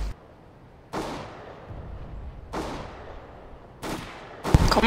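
Counter-Strike: Global Offensive gunfire cracks out in separate loud shots, each ending in a fading tail, with a flurry of rapid shots at the very end.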